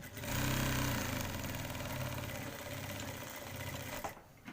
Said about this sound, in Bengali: পরে এক চাপ পরিমাণ সেলাই ধরতে হবে